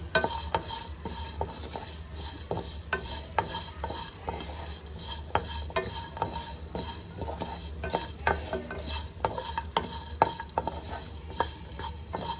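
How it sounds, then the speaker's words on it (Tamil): Green pea kurma ingredients with coconut are sautéed in a pan under a steady low sizzle, with frequent sharp clicks and scrapes of a spoon against the metal, close and fairly loud throughout. "இதையும் சேர்த்து நல்லா வதக்கிக்கலாம்."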